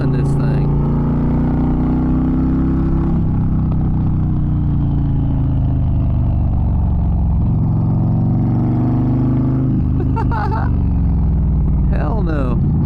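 A sport bike's engine roars steadily at close range while riding, its pitch shifting between gears and throttle changes, with a person speaking over it near the end.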